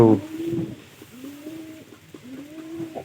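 Pigeons cooing close by in soft, repeated rising-and-falling calls, with a brief louder rustle at the very start.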